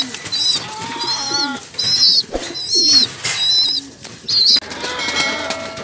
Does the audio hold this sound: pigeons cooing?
yes